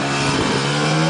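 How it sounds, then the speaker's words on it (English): A Yamaha RZ500 with a V4 500cc two-stroke engine revs loud and close, its buzzing, high-pitched engine note holding steady for a brief moment. "The RZ 500 was basically a race bike delivered to the road. It had a V4 500cc two-stroke engine."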